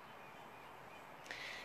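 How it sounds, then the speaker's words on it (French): Bird outdoors giving a single short harsh call near the end, faint and distant against a quiet background hiss. "il y a un oiseau qui est venu nous rendre visite"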